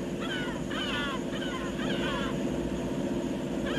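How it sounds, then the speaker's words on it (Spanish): Many seabirds calling near an island off Chilean Patagonia, with repeated harsh, crow-like calls in bursts over a steady roar of wind or engine noise. "Las miles de aves que nos salen a recibir indican la proximidad de la tierra."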